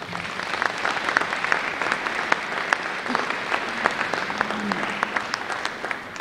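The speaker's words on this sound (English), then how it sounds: "And give them all a round of applause" An audience of parents and families applauds children from a dance class at a school dance show, steady close clapping with distinct individual hand claps standing out and a faint murmur of voices underneath.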